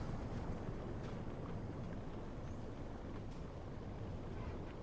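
Steady, loud low rumble of a U-boat's engine inside the submarine game Uboat, a dense, unbroken drone with a faint hiss above it, continuous and without pauses or voices.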